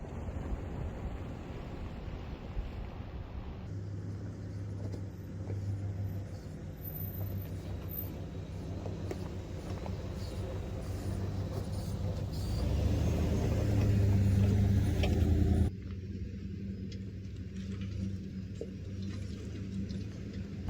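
A 4x4 van drives a dirt trail in the San Rafael Swell, its engine a steady low rumble with wind noise throughout, growing louder and rougher for a few seconds before easing back.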